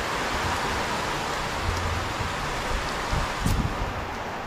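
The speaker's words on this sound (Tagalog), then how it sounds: "Lakas ng ulan." Heavy rain pours steadily with gusting wind at a barracks hut during a storm, a constant dense wash of noise with a few louder gusts near the end and no talking.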